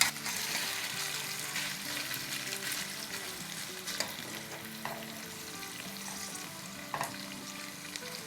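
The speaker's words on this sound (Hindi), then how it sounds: "और अब ये बेसिकली तेल में क्रिस्पी होगा। चूल्हा हमने ऑलमोस्ट हाई पे ही रखा हुआ है।" Meat (gosht) fries in oil in a pot on a stove set almost to high, a dense, steady sizzle close up, broken by occasional stirring clinks and pops.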